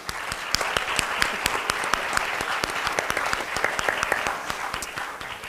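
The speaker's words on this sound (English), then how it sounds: "let's go ahead and give a round of applause just to encourage those in the lobby to come on in." An audience at a constitution lecture claps in a steady, dense round of applause, with individual hand claps standing out near the front and no speech over it.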